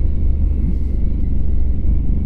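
A 2020 Honda Africa Twin 1100 motorcycle ridden slowly through a town: a steady, close, low engine rumble with wind buffeting, continuous throughout, with no talking.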